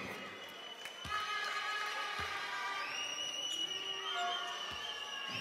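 A basketball crowd of largely Slovakian fans cheers at a 2015 FIBA EuroBasket women's game between Slovakia and Croatia, a sustained, moderately distant roar with whistling tones over it and occasional thuds.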